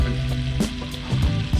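Squid sizzles and fries in a pan at a beach at sunset, a loud, close crackling hiss with a few stirring knocks and clinks, and no voices.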